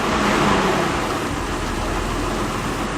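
A car engine idling rough, a loud close low rumble that holds steady throughout, with no talking.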